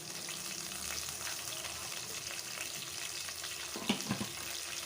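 Onions fry with rock salt in a pan, a faint continuous sizzle with a few soft clinks and stirring scrapes near the end.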